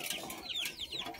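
Local country chickens cluck in quick, overlapping calls at a village home, close and busy, filling the whole short stretch.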